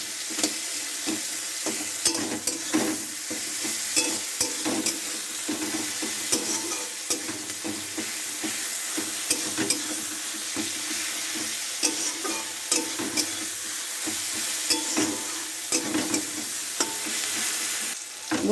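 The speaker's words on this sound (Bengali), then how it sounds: "এরম করে নেড়ে নেবে" Onion, green chilli and tomato frying in a pan are stirred steadily, giving a close, continuous sizzle broken by frequent scraping and clinking strokes of the spoon, with no voices.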